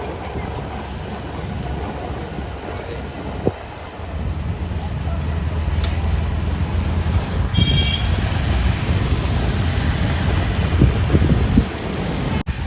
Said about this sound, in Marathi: हे बघा 3 गाड्या येत आहे मागून.